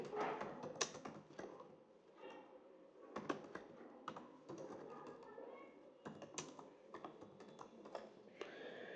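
Keystrokes on a computer keyboard as a city name is entered into an Excel fee management form, a steady run of fairly faint clicks spread across the whole stretch with pauses between bursts.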